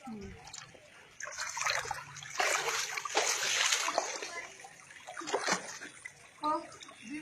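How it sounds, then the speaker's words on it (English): Floodwater flows through a community in Liberia, with uneven splashing and sloshing that rises and falls in bursts; voices can be made out faintly at times. "this is the first time to see water flowing in the community"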